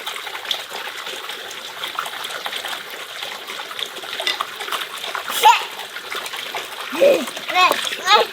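Water from a developed spring is poured out, trickling and splashing in several bursts close by. A child and an adult talk throughout.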